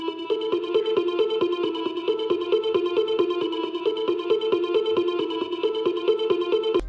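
A second synth arpeggio loop from a dark melody pack pulses in rapid, evenly spaced notes at a lower octave, a steady hypnotic pattern played loud and alone until a short cut at the end.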